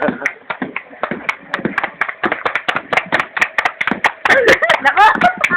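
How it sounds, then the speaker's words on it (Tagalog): A small group claps in quick, uneven bursts, sharp close hand claps over a few seconds, with excited voices and squeals joining toward the end. "Yay! Palakpak!"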